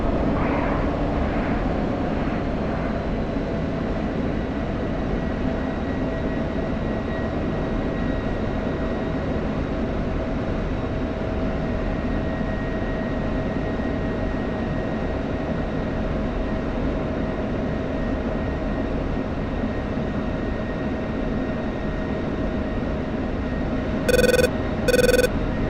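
An F-16 fighter jet flies over Iran with a continuous, even engine roar and a faint steady whine on top, sustained at moderate loudness with no talk, and a few short beeps at the very end.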